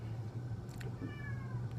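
A pet cat meows faintly a couple of times at close range, the short rising calls sitting over a steady low hum of background noise.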